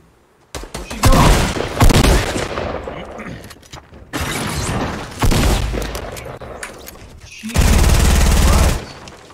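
Gunfire in the video game Fortnite comes in three loud bursts of rapid shots, separated by brief quieter gaps, with one burst near the end sounding especially heavy.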